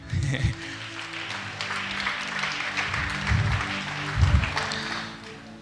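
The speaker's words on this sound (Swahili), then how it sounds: "Ongempigeni makofi mamage" A church congregation applauds a woman during a worship service, with moderate clapping that rises and falls beneath voices and a low musical hum.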